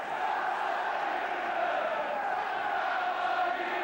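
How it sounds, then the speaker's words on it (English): A big holiday football crowd at a Chelsea v Luton Town match roars steadily in the stadium, a dense, sustained wash of voices with no single call standing out. "What a big holiday crowd, and keen to make a lot of noise."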